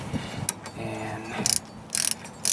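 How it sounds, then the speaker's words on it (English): Socket wrench ratcheting a 12 millimeter bolt tight on a 2004 Jeep Liberty front wheel hub, heard as a few short bursts of rapid clicking, close and moderately loud, with quiet gaps between them. "So grab my socket wrench here and my 12 millimeter"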